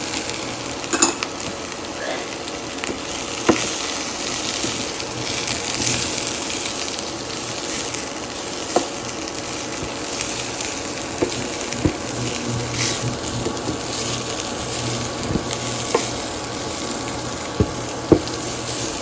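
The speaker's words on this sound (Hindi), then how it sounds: "तो आप इनको अच्छी तरह भून लें, इस तरह मसाला बना लें आपका" Spiced potato masala with cumin, coriander and garam masala fries in a pan, a continuous loud sizzle with occasional sharp scraping taps from stirring, heard alone without speech.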